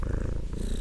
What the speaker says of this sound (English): He then did something he had never done before. He began to purr.